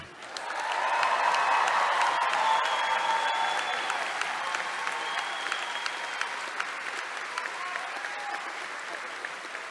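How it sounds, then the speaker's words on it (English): A large commencement audience at a business school graduation ceremony gives a loud, sustained round of applause, many hands clapping in a dense wash that swells in and slowly tapers over ten seconds. "what's better than one round of applause, and the answer came back, second round of applause"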